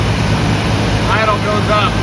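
A 1958 Buick Roadmaster engine idles with the choke opening, a steady close, dense rumble filling the whole stretch, while a voice briefly speaks over it midway.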